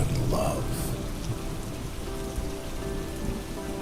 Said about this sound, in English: the thunder and rain will linger a little longer, keeping you company in the quiet of the night